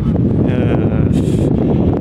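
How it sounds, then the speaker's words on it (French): Strong sustained wind buffets the microphone on a cold day outdoors, a loud, constant low rumble with gusty rustling throughout. "Mais le vent est toujours soutenu."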